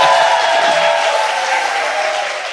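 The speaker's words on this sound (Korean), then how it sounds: "박수!" A political event audience bursts into loud, sustained applause, dense and continuous clapping from a large crowd that fades slightly at the end, with no voices.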